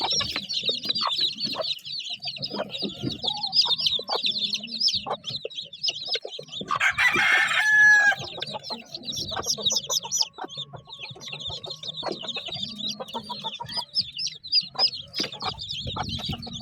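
Young gamefowl chicks and chickens in a backyard farm chirp and peep in dense overlapping bursts, with clucking and a brief louder call partway through, close by, with no talking.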